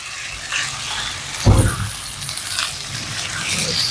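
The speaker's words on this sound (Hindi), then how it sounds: "ये देखें, चिकन को अब हमने इसमें पकाना है। इसको हम थोड़ा सा यहाँ पे पहले कुक करेंगे।" Chicken pieces for shashlik cook in a pan, giving a hissing sizzle that swells into one louder watery burst before settling back to a steady crackle, with no voices.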